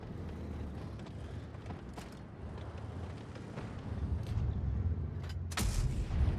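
Tank cannon fire and explosions from the video game World of Tanks Blitz, heavy booming blasts over a constant low battle rumble, with a sharp louder shot near the end, no talking.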